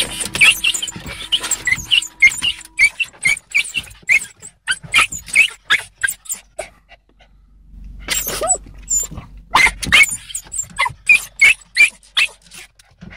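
Dog Leia growling, whining and yelping at a car's windshield washer and wipers, a rapid string of sharp, close vocal bursts with a brief pause midway, no talking.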